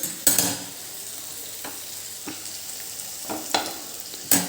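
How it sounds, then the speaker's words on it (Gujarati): Paneer kadai masala is stirred and mixed in a pan with a spoon, producing a few distinct scrapes and clinks spaced over a low sizzle, close by and without voices. "હવે આ બધું એક વખત મિક્સ કરી લેવાનું"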